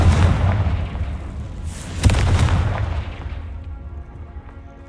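A booming magical blast from the Confringo spell in a Harry Potter video game: a heavy, loud explosion with a sharp crack near the midpoint, then a rumbling tail that fades away.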